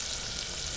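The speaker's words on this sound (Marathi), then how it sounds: "तेल गरम झालं यामध्ये मग फक्त कांद्याची फोडणी करून घ्यायची आहे." Chopped onion sizzles in two spoons of hot oil as tempering for a Panhala-style brinjal curry, a steady, close frying crackle with no talking.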